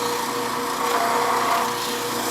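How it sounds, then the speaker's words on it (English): A hand tool held on the platform of a powered sharpening wheel and drawn back and forth across it, giving a steady, close grinding hiss with a machine hum underneath that holds at an even level from start to finish. "turn the machine on, put the tool on the platform, just back and forth across the wheel"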